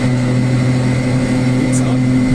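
A Piaggio Ape three-wheeler's small engine drones steadily while driving on a road, a loud close hum with a steady low tone and no clear revving, as voices talk inside the cab.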